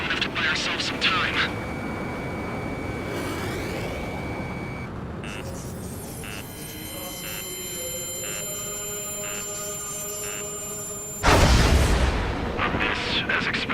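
A railgun energy weapon fires in the video game Ace Combat 7, with a sharp, loud burst near the end over sustained jet and combat noise, preceded by tonal electronic whines and beeps, with voices heard throughout.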